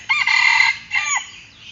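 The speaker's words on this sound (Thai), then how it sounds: "ไก่แจ้" A small bantam rooster crows twice, close and loud, a long strained call followed by a shorter second one, with no talking over it.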